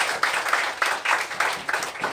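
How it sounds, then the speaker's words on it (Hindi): A seminar audience claps for a trainer in short, uneven bursts of hand claps that rise and fade, moderately close and not sustained. "मैं चाहता हूँ पहले जोरदार तालियां सर के लिए।"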